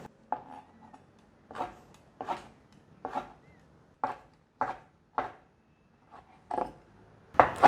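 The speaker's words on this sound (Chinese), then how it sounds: "现在把这个香菇切片，再把它叠起来切丝" A knife slices fresh shiitake mushroom into thin strips on a cutting board, about a dozen crisp, separate chops at an uneven pace with short gaps of quiet between them, close and clear, with no talking.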